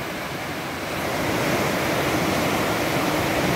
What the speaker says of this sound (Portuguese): Olha de como que cresceu o rompimento do dique. Muita água, muita água. Olha que pressão.